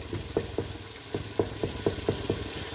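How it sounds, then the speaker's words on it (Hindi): Chicken curry frying in a single pot: a steady low sizzle is broken by about nine regular scraping stirs of a spoon, fairly close, with no talking. "तो अब हम इसको भूनते हैं।"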